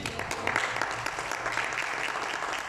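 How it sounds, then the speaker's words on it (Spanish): A church congregation applauds steadily and fairly close throughout, a dense continuous wash of clapping with a faint voice underneath. "¿Cuánto le aplaudan al Señor?"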